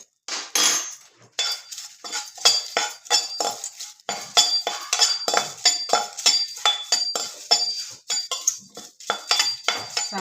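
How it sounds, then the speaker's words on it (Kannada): Metal spoon clinking repeatedly against a steel vessel or dish while asafoetida is added to spices for homemade sambar powder, a rapid series of bright, close taps and scrapes in uneven bursts with brief pauses and no speech. "ಇವಾಗ 1 ಸ್ಪೂನ್ ಇಂಗು ಕೂಡ ಇದಕ್ಕೆ ಸೇರಿಸ್ತೀನಿ"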